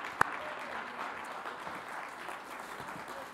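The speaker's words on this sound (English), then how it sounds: "please give them an applause." An audience at a business event applauds, a steady, moderately distant patter of clapping that carries on evenly throughout, with one sharp knock near the start.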